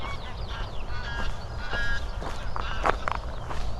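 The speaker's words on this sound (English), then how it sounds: "some very noisy geese over there" Several geese honk and call repeatedly at a middle distance, loud irregular cries over steady outdoor background noise.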